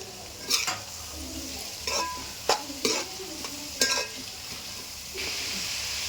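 Cabbage, capsicum and onion stir-frying in a pan, an even sizzle broken by several sharp clinks and scrapes of a spatula against the metal, close and without talking.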